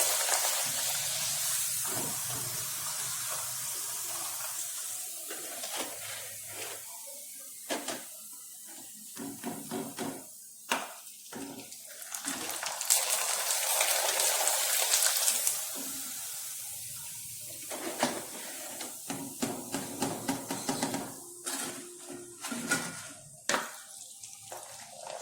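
Sun-dried rice papdi fry in hot oil with a continuous bubbling sizzle that swells and dips, with a few brief lulls.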